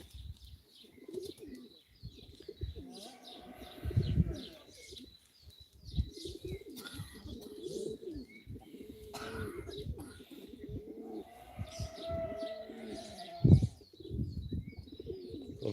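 Low pigeon coos repeat irregularly amid scattered chirps and faint rustling, with occasional soft thumps nearby, at a live pigeon auction.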